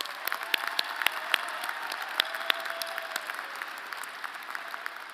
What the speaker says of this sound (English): A round of applause for these remarkable students.